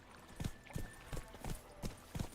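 Hoofbeats of Roach, the horse in The Witcher 3 Wild Hunt, clop out in a steady rhythm of about six evenly spaced thuds, moderately loud and close, with no voices over them.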